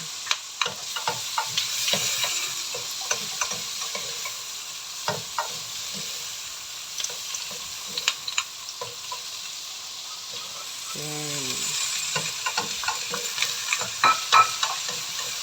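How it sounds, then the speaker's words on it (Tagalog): String beans (sitaw) sautéing in a pan: a steady sizzle runs under repeated scraping and clacking stirs of a utensil, with a brief squeaky tone partway through. "Gigisahin ko lang din po yung ating sitaw."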